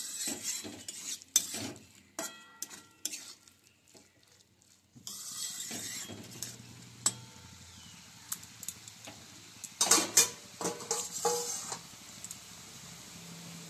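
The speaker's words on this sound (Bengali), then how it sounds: "খুব ভালো করে মিশিয়ে নিচ্ছি।" Spoon scraping and stirring cauliflower stalk curry in a metal pan, with repeated close clinks and scrapes in irregular bursts and a brief quiet gap midway, with no talking.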